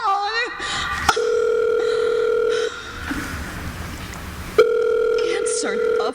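A telephone dial tone hums steadily in a radio drama, broken by a clicking handset and a pause, then resumes; a voice speaks around the tones.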